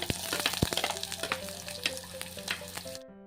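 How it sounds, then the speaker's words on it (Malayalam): Mustard seeds sizzle and pop in hot coconut oil, a dense crackling fry with sharp spattering pops, close and steady before cutting off abruptly. "വെളിച്ചെണ്ണ ഒഴിച്ചത് അതിലേക്ക് കടുകിട്ട് കൊടുക്കാം"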